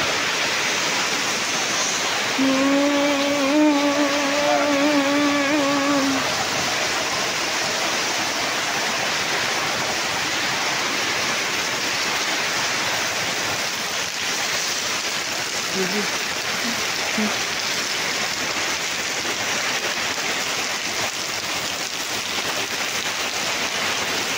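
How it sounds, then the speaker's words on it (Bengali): Heavy rain pours down steadily at a village house in Bangladesh, a loud, dense, unbroken roar, with a voice briefly heard early on. "প্রচুর বৃষ্টি হচ্ছে, মারাত্মক মারাত্মক বৃষ্টি"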